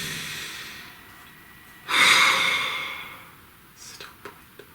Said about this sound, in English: Please take a nice deep breath.